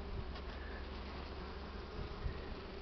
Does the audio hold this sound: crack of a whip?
no